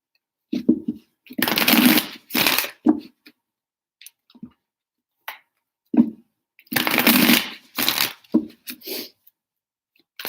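Tarot cards being shuffled in several distinct bursts of riffling, close and fairly loud, separated by short quiet gaps and a few soft taps.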